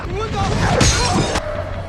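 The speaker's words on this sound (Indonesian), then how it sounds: "tiba-tiba batu mengenai kaca mereka" A stone strikes a vehicle's windshield in a film scene, a sharp glassy impact cracking out over a dense music-and-effects soundtrack, with a brief bright burst in the middle of the clip.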